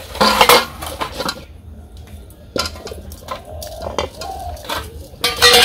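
Pots, a wok and metal utensils being washed: close, irregular clanks and clatters of metal knocking together, with short quiet pauses between bursts.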